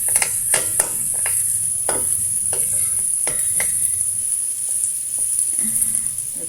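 Garlic and onion fry in a pan with a steady, close hiss of sizzling oil, broken by repeated scraping and clinking strokes of a utensil stirring against the pan, with no talking.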